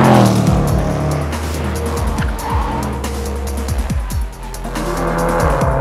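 A Range Rover Sport SVR is driven hard at the Nürburgring, its loud engine note rising and falling through repeated gear changes and revs as it passes, with tyre squeal and road roar.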